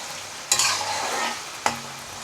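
Potato pieces seasoned with salt and turmeric fry in hot oil while a spatula stirs them, giving steady close sizzling broken by two sharp scraping strokes, with no voices.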